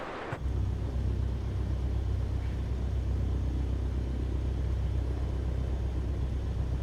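A Cessna 152 engine running in MS Flight Simulator 2024 starts abruptly after a brief quiet moment, then holds a loud, steady low drone throughout.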